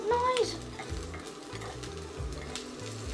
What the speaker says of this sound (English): That is sizzling noise right there.